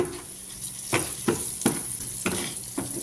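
Onions fry in a pan alongside canned tuna and black pepper, a soft continuous sizzle broken by about five distinct scraping strokes of a spatula stirring, close and moderately quiet, with nobody talking.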